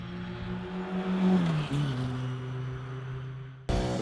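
A race car on a warm-up lap at Laguna Seca, its engine drone steady and then bending in pitch as it passes, followed by an abrupt loud burst of revving at the end.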